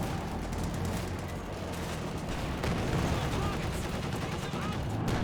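Dense, continuous gunfire and explosions in a Company of Heroes battle, with strafing aircraft fire hitting an M180 gun crew. The shots are steady, busy and mid-distance, and faint commentary-like talk sits under them.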